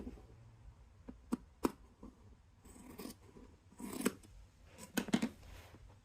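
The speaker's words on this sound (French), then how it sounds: "je vais venir couper ici à l'emmanchure" Scissors cut fabric at the armhole of an upcycled garment, a series of close, crisp snips and slicing crunches coming in uneven bursts with soft rustling of cloth between them, no one speaking.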